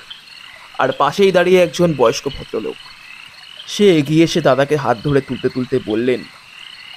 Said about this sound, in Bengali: শুধু ঝিঝি পোকা আর ব্যাঙের ডাক।